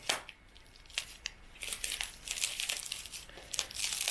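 A delivered cargo package is torn open up close: faint crinkling plastic and paper with sharp tearing bursts that grow busier toward the end.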